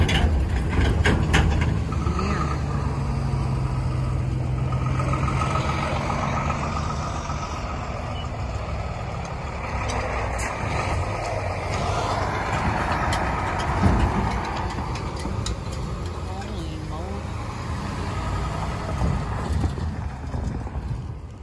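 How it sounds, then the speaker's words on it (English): Cars and trucks pass a railroad crossing on State Street in Guthrie, Kentucky. A continuous rumble of traffic swells and fades as vehicles go by, with no speech. "So many cars coming this way."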